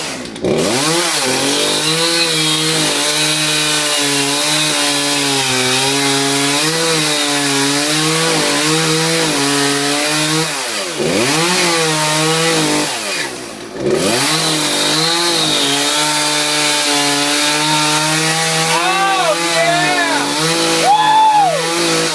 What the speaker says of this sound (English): Let's see how it cuts through this nice dry block of wood.